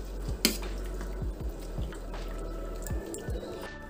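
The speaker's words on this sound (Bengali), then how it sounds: "একটা হাতা দিয়ে জলটা চেপে চেপে ফেলে দেব।" A ladle presses water out of boiled taro leaves, giving soft squishing thuds and light drips, several brief pushes spaced over a few seconds, close up.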